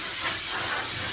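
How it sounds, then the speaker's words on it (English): A sharp, continuous hiss of compressed air blasts dust off a freshly sanded body panel on a Holden VL Commodore under restoration, loud and close for about a second. "I'll just blow it off now."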